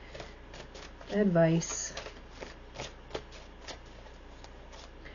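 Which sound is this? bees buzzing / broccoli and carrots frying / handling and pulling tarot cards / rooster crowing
handling and pulling tarot cards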